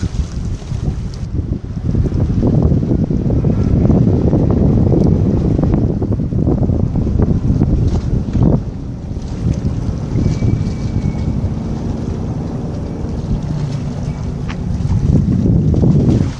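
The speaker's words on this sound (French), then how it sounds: "Bateau là qui fait son bruit, mais il est caché un peu de ce côté-là." The MSC Seagrass ship, partly hidden from view at a port with a gantry crane, gives off a steady low rumble under loud, gusting wind noise on the microphone, with no talk.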